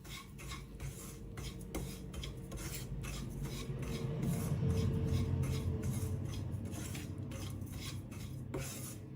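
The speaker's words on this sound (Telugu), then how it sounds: "ఇప్పుడు అదే నేతిలో గ్రైండ్ చేసి పెట్టుకున్న రవ్వను వేసి వేయించుకోవాలి" Ground poha rava frying in ghee on a low flame, with a spoon scraping and stirring against the pan in repeated strokes over a soft steady sizzle, close and quiet.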